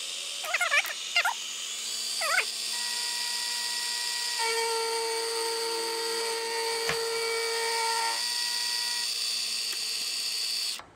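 A milling machine takes a cut on a hex nut for a Cub Cadet bushing, giving a steady high whine of spindle and cutter with a few squeaky chatters at the start, close and continuous, then stopping at the end.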